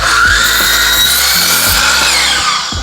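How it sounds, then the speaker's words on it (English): A miter saw set at a 10-degree angle cuts a bevel into a wood board, a loud, close, sustained whine of the blade through the wood with a slight drop in pitch near the end. "miter saw angled at 10 degrees. We're going to cut a little bevel on the side that meets up with the building"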